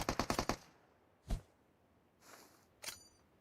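Gunfire in PUBG Mobile during a competitive FPP pro league match: a quick burst of five or six sharp automatic shots, then two isolated single shots a second or so apart, with a faint mechanical clack between them.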